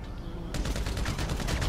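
Mounted guns fire in an alien-extermination video game, a sudden loud burst that breaks into rapid, continuous automatic fire and keeps going to the end.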